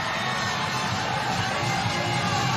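A large crowd cheers steadily for a climber in the lead final at the World Championships in Seoul, a dense, continuous roar of voices and shouts with no breaks.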